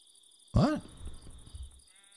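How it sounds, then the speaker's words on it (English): A single sheep bleat in Minecraft, a short wavering cry from a nearby animal, followed by faint low game ambience. "Got lots of sheep around."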